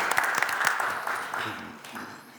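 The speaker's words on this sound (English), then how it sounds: "Let's give them a round of applause." Brief applause from the audience at a Philadelphia City Council meeting, a short burst of clapping that fades quickly, with a voice speaking over it.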